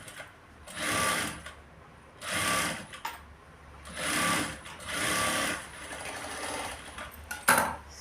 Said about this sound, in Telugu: సో దీని మీద నుంచి మళ్ళీ ఒక కుట్టు వేసేయండి